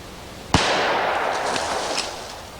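A single sharp gunshot cracks out, loud and close, and trails off into a long outdoor echo that fades over a couple of seconds.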